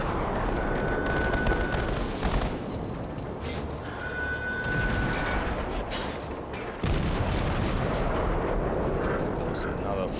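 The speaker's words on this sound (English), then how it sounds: "Goes another full salvo." Ship guns firing full salvos and explosions roar through a World of Warships naval battle aboard the cruiser St. Louis, with dense continuous booms and rumbling blasts and a brief tonal alert sounding twice.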